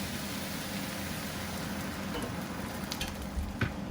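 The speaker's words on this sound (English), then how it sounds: "just add a splash of water just to stop the frying process" Steady crackling sizzle of sausages frying in a pan, continuous and close, with a few small pops near the end.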